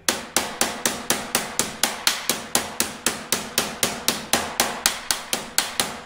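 A hammer taps steadily on 1967 Kaiser Jeep M715 floorpan sheet metal against a table, about three sharp, ringing strikes per second, close and alone.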